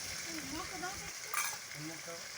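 Steady frying sizzle from a pan of hilsa with potato, eggplant and mustard as turmeric, chili powder and then water go in, with stirring, a brief louder hiss and faint talk in the background.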